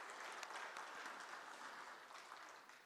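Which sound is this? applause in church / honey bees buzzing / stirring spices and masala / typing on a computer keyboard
applause in church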